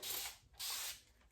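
Two quick bursts from a spray bottle misting water onto microlocs, each a soft, close hiss with a short pause between them.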